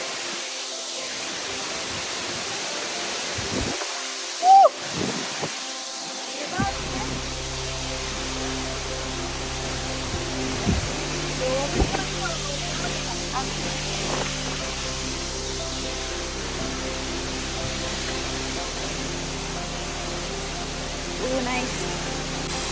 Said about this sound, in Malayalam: ഗൈസ്, ഞങ്ങൾ കടന്നുപോയ വെള്ളച്ചാട്ടമാണ്